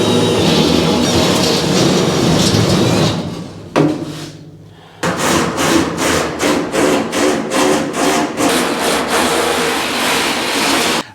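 A drill bit grinding through sheet metal on a 1953 GMC truck front end: a loud continuous harsh whir, a brief pause, then a series of rhythmic pulsing bursts as the bit bites, close up and without talk.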